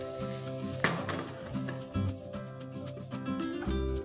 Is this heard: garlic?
yes